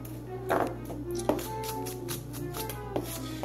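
A knife mincing ingredients on a cutting board, a few sharp chopping taps scattered irregularly over a low steady hum, fairly quiet and close.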